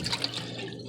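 Water pours into a cup, a short burst of close splashing and trickling lasting about a second.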